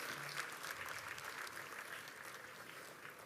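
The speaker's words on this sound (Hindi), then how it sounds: "भरपूर तालियों के साथ खुश आमदीद कहिए।" Audience applause welcoming guests at a stage show, a steady wash of clapping from a large crowd that holds an even level throughout without voices.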